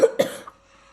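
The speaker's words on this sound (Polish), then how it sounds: "ile razy kaszlałem?" Two quick close coughs from a boy, sharp and loud, followed by a short pause and a faint breath.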